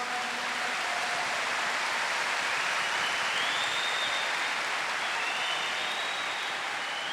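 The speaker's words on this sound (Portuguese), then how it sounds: "Pode aplaudir mais forte." A worship audience applauds steadily throughout, a dense and even wash of many hands clapping at some distance with no talk over it.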